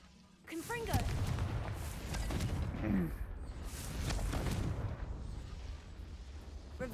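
A Confringo fire spell from Hogwarts Legacy goes off as a sharp blast with booming, crackling bursts, followed by further rumbling impacts, mixed with a voice and game ambience.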